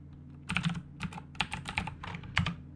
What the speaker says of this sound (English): so we'll type concrete in here.